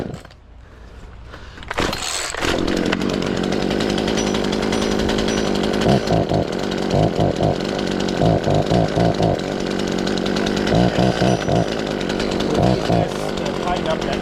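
A chainsaw fires up and runs at a steady idle with a constant buzzing drone, loud and near, while people talk intermittently over it.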